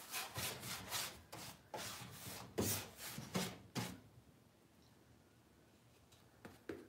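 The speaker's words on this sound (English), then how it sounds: "So I'm just kind of going through and putting some of the wax." Wax is brushed and rubbed onto a bare wooden dresser in quick, close rhythmic scrubbing strokes that are dense at first, then thin out into sparse soft rubs toward the end, with no talking.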